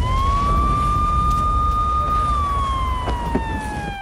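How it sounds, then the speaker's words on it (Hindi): An air raid siren wails over Kyiv during missile attacks, one long loud rising-and-falling tone that holds steady, then slowly sinks toward the end. "कीव में बजने लगे सायरन"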